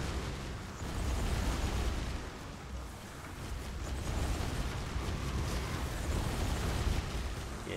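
Repeated explosions in Soulstone Survivors as a barbarian character's attacks detonate among enemies, a dense rumbling barrage of overlapping booms and bursts that swells and holds for several seconds, with no talk.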